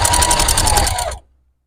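A sewing machine backstitches through a junk journal cover made with fabric, running in a steady rapid whir with a faint hum, close and loud, then stopping abruptly.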